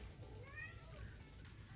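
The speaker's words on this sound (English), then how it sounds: "This cat is seriously talkative the older he gets." A talkative older house cat meows a couple of times close by, short drawn-out calls rising and falling over a quiet indoor background.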